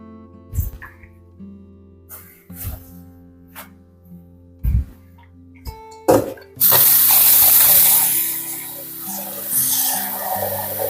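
Water is poured over the upper leaves of garden plants during a hot summer. A few scattered thumps and knocks come first, then a strong, steady splash of falling water lasts the final four seconds.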